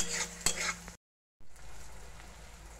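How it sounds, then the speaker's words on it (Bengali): Dried fish and onion frying in a home kitchen pan as eggplant goes in, a steady close sizzle with stirring scrapes, broken by a brief silent gap before the sizzling resumes more softly. "শুটকি পেঁয়াজ সবগুলো ভাজা হয়ে গেছে, এখন দিয়ে দিচ্ছে বেগুন"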